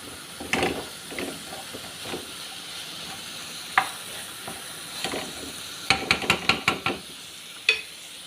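Food fries in a pan with a soft continuous sizzle while a utensil stirs it, scraping and clacking in uneven strokes. A quick run of sharp taps near the end stands out, close up, with no talk.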